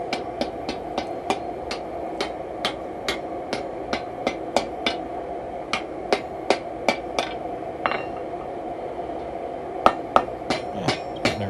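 Hot metal being forged into mantle hooks rings under steady hammer blows on an anvil, sharp evenly spaced strikes close by with a short pause midway before the rhythm resumes.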